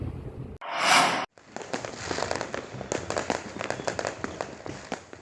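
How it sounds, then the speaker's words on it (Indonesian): New Year's Eve fireworks over Merauke, Papua: a loud whooshing burst opens, then a dense run of crackling pops and sharp bangs at mixed distances continues steadily without talk. "Di Merauke, meski diwarnai pesta kembang api"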